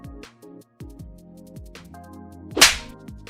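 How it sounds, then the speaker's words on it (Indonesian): A hard comic slap to the face lands as one sharp, loud whip-like crack near the end of the clip, over a bouncy musical backing with plucked notes. "tuan ketiga Wei menampar wajah Wei Ziping dengan keras"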